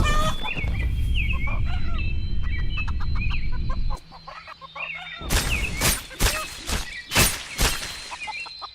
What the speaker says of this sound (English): Where's the chicken?